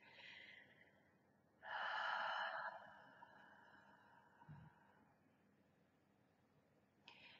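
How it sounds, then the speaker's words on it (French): Slow, deliberate breaths, soft and close, with a long drawn inhale-exhale swell in the middle and faint snort-like puffs in a quiet room. "On va prendre le temps de respirer."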